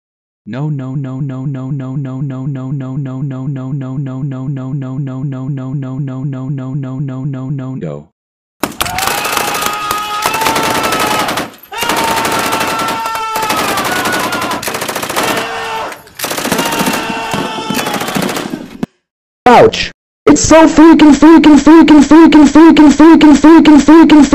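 Rapid machine gun fire rings out in loud, repeated bursts in an animated cartoon shooting scene, with fast regular volleys at the start and dense, harsh bursts broken by short gaps later, and voices mixed in.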